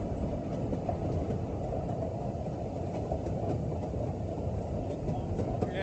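Ffestiniog Railway gravity train running past in pouring rain, a steady rumbling roll of wagons on track with faint rhythmic clicks, continuous and moderately distant.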